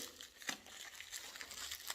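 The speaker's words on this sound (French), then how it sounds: "Le papier bulle est assez épais." Dense, crackly crinkling of thick bubble wrap around a parcel, with a few sharper pops, close and continuous for a couple of seconds, no talking.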